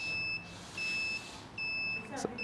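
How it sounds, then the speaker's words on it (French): A COVID-19 social distancing badge alarm sounding a series of high, steady electronic beeps in a regular on-off pattern, fairly faint, with a brief click near the end. "le capteur va incrémenter l'alarme"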